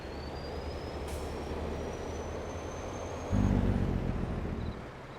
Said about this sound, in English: Let the truck go.